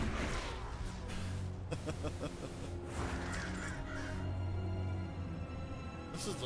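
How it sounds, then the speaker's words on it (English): Crows cawing in World of Warcraft, harsh calls scattered over a dense game soundscape with someone talking over them. "Go get him, crows!"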